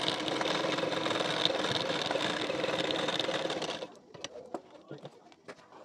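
A sewing machine runs steadily while stitching a hook strip onto a blouse, a close, even mechanical whir that stops abruptly near the end, leaving quiet room sounds and soft handling clicks.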